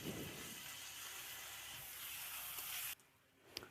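Onions fry in hot oil in a kadai, a loud steady sizzle and hiss that runs for about three seconds before cutting off abruptly, followed by a single small clink.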